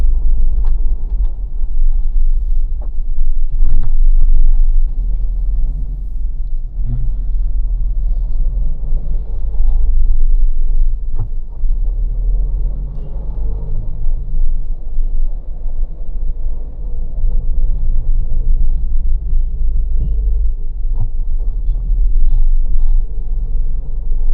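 Low, heavy road rumble comes from inside a 2024 Mahindra Thar RWD LX hardtop with manual gearbox driving through Sunday traffic, with engine drone and tyre noise steady and close and occasional thumps, without talk.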